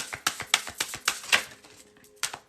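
A deck of cards being shuffled nearby, with a quick series of sharp riffling snaps and a pause before a final burst.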